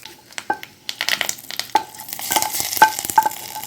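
Hot mustard seed tempering with dried red chillies poured into amla chutney, giving a crackling, popping sizzle with scattered sharp pops and clinks of a spoon, close and fairly loud.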